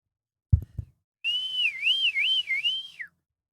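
A person whistles one sustained, warbling tone that wavers up and down over about two seconds, close and clear, after a couple of short knocks or bumps.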